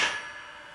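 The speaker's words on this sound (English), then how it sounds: "I'm going to put 2 center punches in to drill holes" A hammer drives a center punch into a steel wrench being forged into a hook: one sharp, ringing metallic strike that quickly fades.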